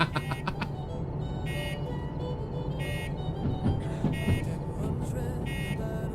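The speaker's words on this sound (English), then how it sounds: "And this bell sounds more like a car alarm from someone's told me." Bell of a DE6 diesel locomotive in the train game Derail Valley, a repeated electronic ringing in short bursts over a steady low engine rumble, sounding much like a car alarm.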